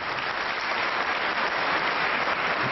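Audience applause at a French poetry evening, a thick, continuous patter of many hands clapping at steady volume throughout, with no voices rising above it.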